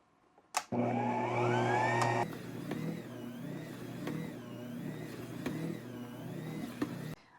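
A stand mixer kneads whole wheat dough made from fresh milled flour, its motor droning loudly at first, then settling into a steady, rhythmically wavering hum with periodic thumps as the dough turns.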